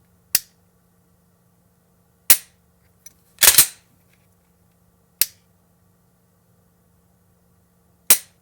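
Glock 19 Gen 4 pistol undergoing dry-fire trigger pulls, with sharp isolated metallic clicks spaced a few seconds apart and a quick double rattle of the slide or trigger reset between them, close and distinct in a quiet room.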